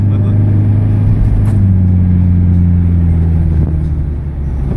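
A Japanese import car driving in sport mode, heard from inside as a loud, steady low engine drone and road rumble that eases slightly near the end, with a brief knock or two.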